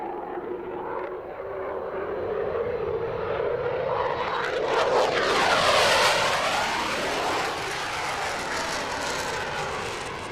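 A 1970s-designed F-16 fighter jet flies at a British air show, its engine roaring loud and building, then sweeping past with a rising and falling whoosh before trailing off in a sustained rumble.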